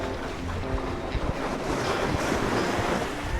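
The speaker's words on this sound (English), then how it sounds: "look at the water waves coming through right" Ocean waves wash in at Busselton jetty, a continuous loud rush of surf mixed with strong wind buffeting the microphone, with no voices over it.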